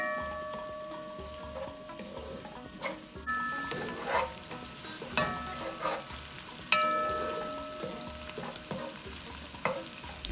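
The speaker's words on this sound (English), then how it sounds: "Then I'll add in my sliced up red onions. Stir and cook for about 3 minutes." Sliced red onions fry in hot palm oil in a pot, a soft steady sizzle broken by scrapes and knocks of a spoon stirring, with a few louder clatters.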